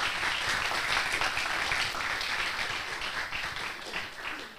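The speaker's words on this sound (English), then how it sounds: "Please give a round of applause for Ibu Noni" An audience applauds speaker Ibu Noni with a sustained, even wash of many hands clapping, steady throughout and fading slightly at the close.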